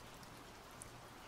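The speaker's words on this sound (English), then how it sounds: "It's kind of raining." Steady rain patters continuously and softly on surfaces, a faint even wash with no voices.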